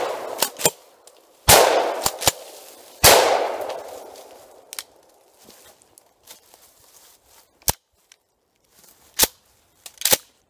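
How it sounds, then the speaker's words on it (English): A Remington 870 20 gauge pump shotgun fires three loud, booming shots, each with a trailing echo, separated by sharp metallic clicks of the pump action and lighter handling sounds. "we're going to take you three shots, and that'll be it for the Remington 870 12 20 gauge"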